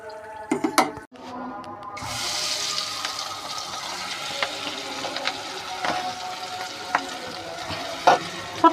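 Fish roe fritters fry in hot oil, giving a steady bright sizzle with intermittent clinks and scrapes of a small spoon against the pan, fairly close and loud.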